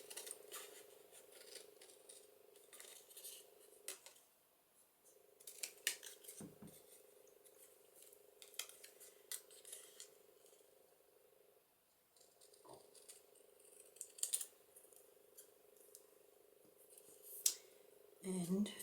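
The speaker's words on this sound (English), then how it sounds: "I am not really the best at cutting straight with scissors." Scissors cutting card for a Christmas card, with several short crisp snips scattered through a quiet room, faint and close, with a low steady hum behind.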